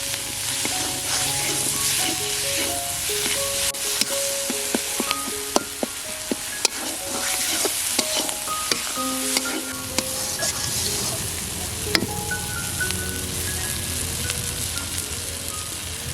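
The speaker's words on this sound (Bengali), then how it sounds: "এখন সমস্ত মশলাগুলো একসাথে মিশিয়ে সুন্দরভাবে কষিয়ে নেব" Turmeric, chili powder and salt frying together in oil for a Kerala-style sardine curry, a continuous close sizzle with repeated clinks and scrapes of a spoon stirring the pan, no voices present.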